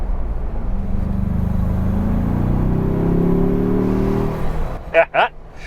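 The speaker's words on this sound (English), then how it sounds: "thanks to the snorkel, you actually get some induction noises as well" A Ford Bronco Everglades with a four-cylinder turbo engine draws induction noise through its snorkel, a low droning whir rising in pitch for a few seconds, followed by brief bursts of a voice at the end.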